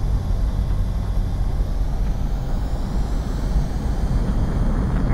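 A jet fighter rolls for takeoff in Ace Combat 7: a steady, loud engine roar that holds without a break.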